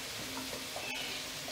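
Washed, squeezed mushrooms go into a pan of sizzling onion and tomato, giving a soft, continuous frying hiss with a faint clink of the pan.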